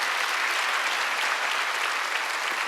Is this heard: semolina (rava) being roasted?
no